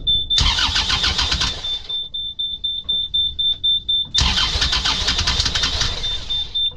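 A small boat's outboard engine cranks in two long bursts with a quiet pause between, turning over repeatedly but never catching, apparently short of fuel; a steady high tone runs throughout.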